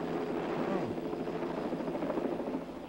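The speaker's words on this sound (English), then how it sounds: "It's one of those UN black helicopters, only painted white and orange." A helicopter's steady thumping drone fills the scene, close and fairly loud, with a low rumbling engine tone throughout.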